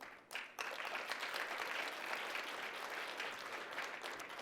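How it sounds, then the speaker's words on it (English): Applause from a dinner audience of Texans at a Digital Patriots Dinner, a dense, steady wash of clapping that swells in quickly and holds for several seconds, fairly distant and without voices over it. "Just the Texans applauded."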